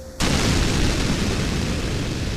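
Explosion aboard a DC-9 airliner as a sound effect: a sudden loud blast that opens into a sustained, roaring rumble with no voices.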